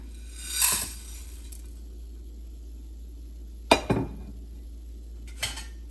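Ingredients tipped into a hot pan on the stove for dry roasting, with a soft rattle followed by two sharp metallic clinks of a spoon against the pan, separated by quiet stretches.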